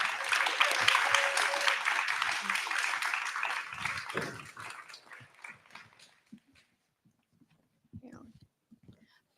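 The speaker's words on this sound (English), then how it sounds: "A round of applause for Sylvia." An audience at a live Turtle Island Gathering panel applauds for Sylvia, a moderate burst of clapping that fades out over several seconds, leaving near silence with faint shuffling.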